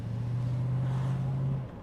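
A 1990 Mercedes-Benz 500 SE (W126) engine hums steadily at a low, even idle, close by and unbroken, with a faint rumble of cabin noise around it.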